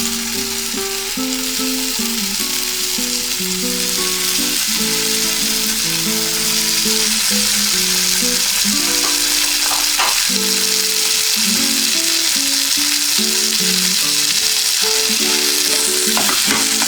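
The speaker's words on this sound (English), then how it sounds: "Meanwhile, our tikka is getting grilled." Paneer tikka shashlik grills in a greased pan with a loud, continuous sizzle and hiss that stays steady throughout, close up, broken by a few clinks and scrapes and faint tonal background sounds.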